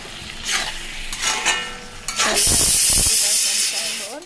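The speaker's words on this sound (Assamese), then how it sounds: "এতিয়া নতুনকৈ এইখিনি আৰু অলপ সময় ভাজিব দিম" Chicken pieces fry in a pan for a curry, a loud, close hiss and sizzle that swells into a strong burst of steam midway, with stirring scrapes and a voice talking briefly beneath.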